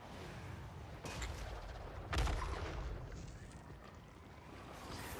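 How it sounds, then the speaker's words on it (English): A magma cannon fires in the strategy battle game Total War: Warhammer 3, two booming shots about a second apart over low battlefield rumble, fairly quiet and distant in the mix. "Magma cannon fires"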